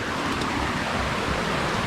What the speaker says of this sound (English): Have a little waterfall going down on you, and it just sort of meanders up.